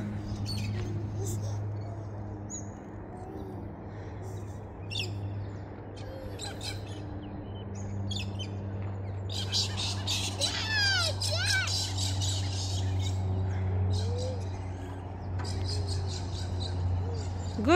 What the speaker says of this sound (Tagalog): See another bird.